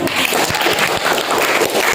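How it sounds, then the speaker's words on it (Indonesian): Classroom applause for a student group about to give a talk, a brief, fairly loud patter of hand claps from a small room of people, uneven and close. "Tepuk tangan dulu untuk kelompok"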